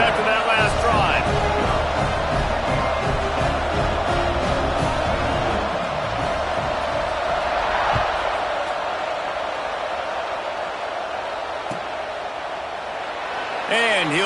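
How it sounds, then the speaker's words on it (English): Stadium crowd noise at Alton Stadium in a college football video game, a steady roar of cheering and babble with a commentator talking over it throughout. "this crowd is feeling themselves after that last drive"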